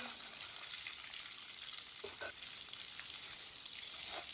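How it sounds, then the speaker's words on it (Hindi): Seviyan vermicelli roasting dry in a frying pan for sweet meethi seviyan, giving a steady faint sizzle and crackle with a couple of soft stirring scrapes, close and quiet. "सेवियों को भी थोड़ा सा ना रोस्ट कर लेंगे 1 मिनट के लिए।"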